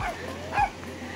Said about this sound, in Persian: یه هاپوی جدید اومده